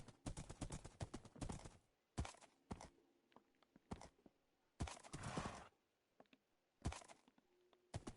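Horse hooves clip-clopping in Minecraft, several irregular bursts of quick hoofbeats at close range, alternating with short quiet gaps and no talking.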